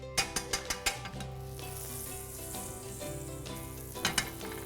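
Butter sizzling and foaming in a hot frying pan, a steady crackling hiss with a few sharp taps of a utensil at the start and again near the end, fairly quiet and with no voices.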